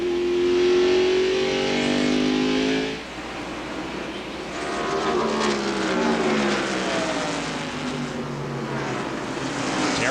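NASCAR stock cars roar past at the 1995 Tyson Holly Farms 400, a loud engine drone with a pitch sweep as one car passes, a brief dip, then more cars rising and fading in a continuous race-track wash.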